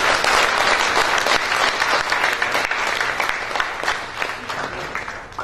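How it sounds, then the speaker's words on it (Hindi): Warm, sustained applause from an audience at a book launch event, starting full and loud and gradually tapering off toward the end. "कृपया तालियों की गड़गड़ाहट से अभिनंदन करने के लिए।"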